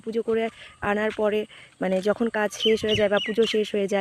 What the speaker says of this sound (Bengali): শুধু পাখির ডাক, তাছাড়া আর কিছুই নেই।